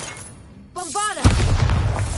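A Bombarda spell explosion in Hogwarts Legacy lands as a sudden booming blast after a short vocal burst, then rumbles on with a noisy tail.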